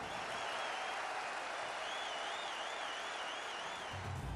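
A huge cheering, applauding crowd of more than 50,000 people welcomes the Prime Minister at the Howdy Modi rally in Houston, a dense, continuous roar filling the space without pause.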